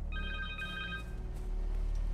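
Connor's cell phone rings in the Spider-Man 2 video game, a bright warbling electronic tone that plays for about a second and then fades into low ambient rumble.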